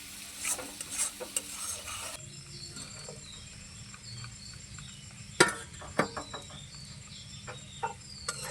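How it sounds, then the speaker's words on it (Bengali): Fried potatoes and dried loitta fish being stir-fried with spices in a pan, with a soft sizzle, scraping and stirring clatter, a few sharp knocks and faint bird clucks in the background. "ভেজে রাখা আলু আর শুটকি মাছগুলো মশলার সঙ্গে ভালো করে কষিয়ে নেব।"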